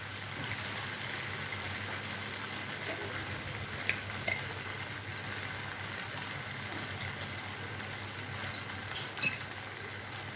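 Pepper-seasoned food fries quietly in a pan in a home kitchen, giving a soft continuous sizzle. Occasional light clinks and scrapes from stirring rise above it, more often toward the end, with no talking.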